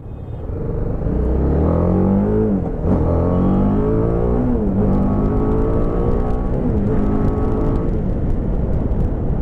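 A KTM RC 390 motorcycle engine hums and rises through city traffic, loud and close, with repeated rev climbs and gear changes that swell and dip over a steady rumble.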